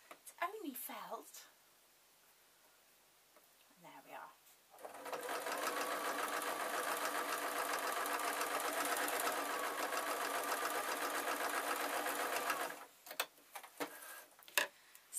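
Sewing machine stitching felt with white cotton for a ragdoll, running in one loud steady burst of about eight seconds between brief pauses, with handling noises before and after.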